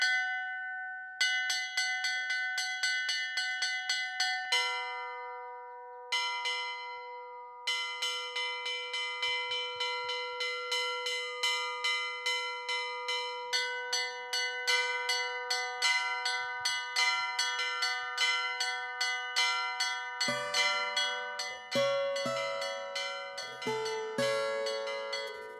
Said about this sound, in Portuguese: Toda manhã a gente ouvia esse sino.